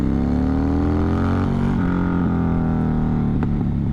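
A Harley-Davidson motorcycle pulling hard under acceleration, a loud close engine drone with rising harmonics as it gathers speed, then a brief dip and continued pull, no voices.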